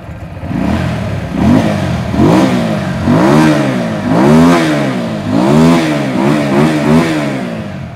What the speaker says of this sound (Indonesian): Ini posisi stasioner begini. Cukup senyap dan pastinya khas mesin V-twin ya.